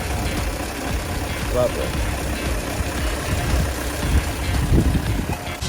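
A 1965 Volvo PV544 Sport engine idles smoothly just after an oil change, a steady low rumble running close and continuous while someone speaks briefly over it.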